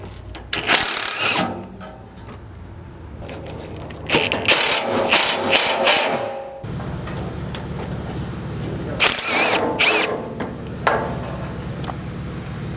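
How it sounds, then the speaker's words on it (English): A ratchet with a 12mm socket backing out fuel tank skid bolts on a 3rd gen Toyota 4Runner, loud close bursts of rapid clicking in several separate runs, with clunks and handling noise between them. "Those are all going to use a 12mm socket."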